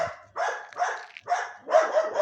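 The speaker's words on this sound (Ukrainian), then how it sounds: "їм так все одно, що на них гавкають зі страшезною силою" Dogs bark loudly and close by in a quick series of about five sharp, harsh barks with brief gaps between them.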